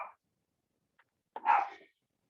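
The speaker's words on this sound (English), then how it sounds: "Excuse my barky dogs." Dogs barking indoors: a short bark, a faint tiny yip, then a louder, longer bark, sharp and fairly close with silence between.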